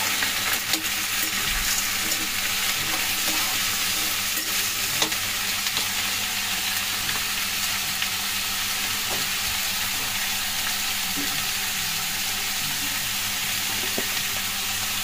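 Eggplant, potato and egg frying in a pan while being stirred, a continuous close sizzle with occasional light scrapes and taps of the spoon throughout.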